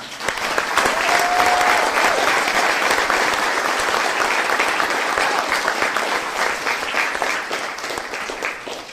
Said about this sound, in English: Let's give these athletes a big round of applause.